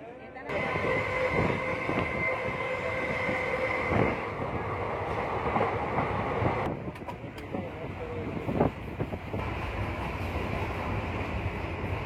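A Siddaganga Express train at Yeshwantpur station platform, with steady loud rail rumble and station din throughout, a few sharper clanks and squeals of wheels partway through, and faint voices mixed into the background.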